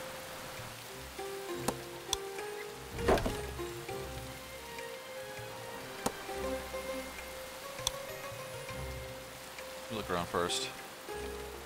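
Steady rain pattering in the game Settlers: Rise of an Empire, a continuous soft hiss with scattered ticks and drops, running under game music and a brief spoken line.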